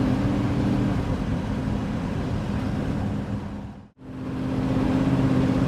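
A clapped-out 1955 Chevy Gasser on Pro Track tires cruises gently along, giving a steady broadband engine and road roar that dips briefly to near silence before resuming, close and continuous, with no talking.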